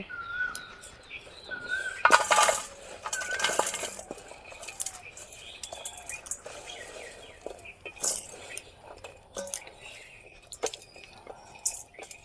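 Chopped green chillies for a pickle are tipped from one container into another, giving a cluster of rattling, clinking dish sounds up close, then quieter scattered clinks and taps, with faint bird chirps in the background.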